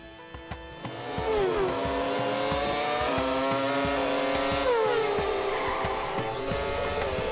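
An animated cartoon car engine revs and accelerates, rising whines sweeping upward twice over a loud steady rumble, with no talking.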